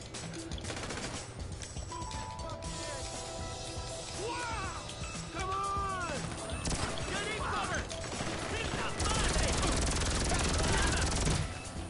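A helicopter in GTA V thrums under a chaotic firefight, with bursts of machine-gun fire, crashes and mechanical clatter growing louder toward the end.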